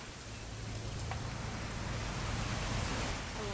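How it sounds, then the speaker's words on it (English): Continuous rainfall in What Remains of Edith Finch, a broad, steady wash of drops with a faint low hum underneath, unbroken and fairly loud, no one speaking. "It's gonna rain the whole weekend"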